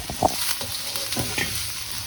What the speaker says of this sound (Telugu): ఉల్లిపాయ ముక్కలు, వెల్లిపాయ రెబ్బలు తీసుకొని వేపాలి